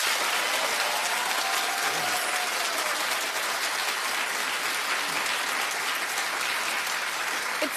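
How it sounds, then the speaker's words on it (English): A television talk-show studio audience claps loudly and continuously, a thick, unbroken wash of applause with faint cheering mixed in. "Now clap if you agree that it was right to fire her."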